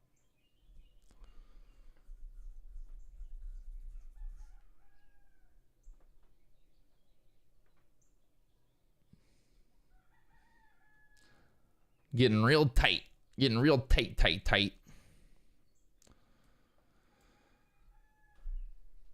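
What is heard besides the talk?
roosters crowing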